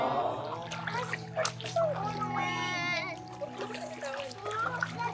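A child plays in water on a family outing in Marinduque, with splashes and sloshing mixed under near, continuous children's and adults' chatter and a low steady hum running throughout.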